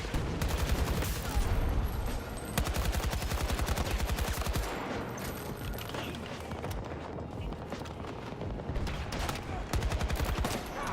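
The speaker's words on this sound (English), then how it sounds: "AK is a satisfying weapon to at least shoot with" AK rifle fire in a military video game, with long, loud, rapid automatic bursts of crackling shots, a few brief pauses in between, and someone talking over the shooting.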